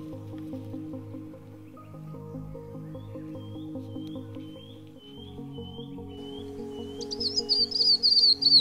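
Birds call in a forest, with quick, bright chirps that rise clearly near the end over a bed of sustained low tones, heard without speech.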